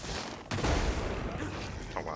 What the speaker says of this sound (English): I will smite you with lightning.